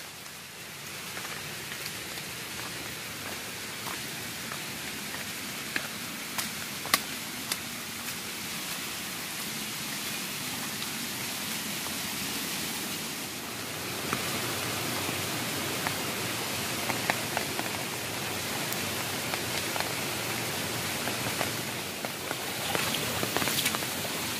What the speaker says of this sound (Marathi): बारीक बारीक पाऊस चालू आहे.